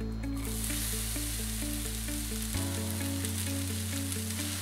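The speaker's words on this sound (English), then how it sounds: "Now we add some grapeseed oil to the pan and prepare to sauté the onions." Onions sauté in grapeseed oil in a pan, a continuous close sizzle running evenly under a steady hum, with a brief clatter near the start and no talking.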